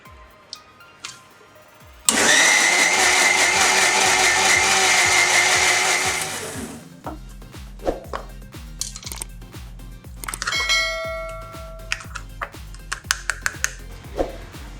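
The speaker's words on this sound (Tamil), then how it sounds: "இப்போ இன்னும் கொஞ்சம் அரைக்கணும்." An electric mixer grinder whirs loudly for about five seconds while grinding chillies for Malaysian sambal with anchovies, then stops, followed by scattered clicks and taps of the jar and lid.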